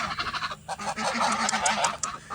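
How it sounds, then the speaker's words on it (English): A flock of geese honking close by on an Oklahoma property, a rapid run of loud overlapping honks and cackles filling a couple of seconds. "I love the geese."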